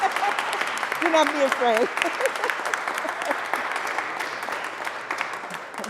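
Audience applause breaks out inside a state Senate chamber during an award presentation, a steady wash of clapping running the whole time while someone speaks over it.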